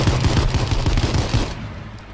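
Bursts of automatic gunfire aimed at a jeep in the battle royale game H1Z1 rattle loudly and rapidly for about a second and a half before fading off.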